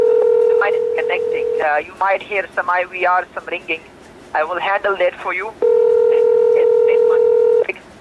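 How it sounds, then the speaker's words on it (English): A telephone line connects on an incoming Medicare and final expense insurance sales call, with long steady ringback tones at the start and end and someone speaking briefly over the line in between. "The line is connecting. You might hear some IVR, some ringing."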